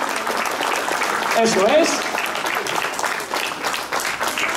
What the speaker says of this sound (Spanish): Un aplauso para ellos también. Por favor, el aplauso.